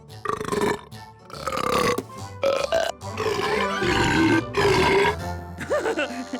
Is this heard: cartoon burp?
yes